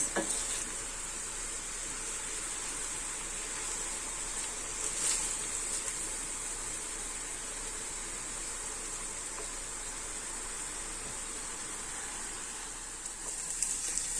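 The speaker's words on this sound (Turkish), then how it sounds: "İki büyük boyda kuru soğanımı robotta çektim. Onu da kavuruyorum." Two large grated yellow onions sauté steadily in sunflower oil in a pan, a continuous close hiss of frying with faint occasional stirring and no talk.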